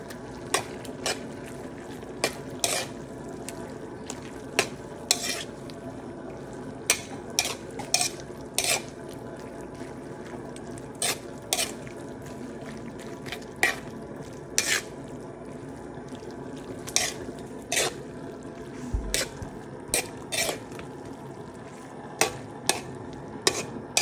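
Vegetables cook with Korean paste in a pan, a low bubbling simmer under frequent sharp clinks and scrapes of a utensil against the pan, no voices.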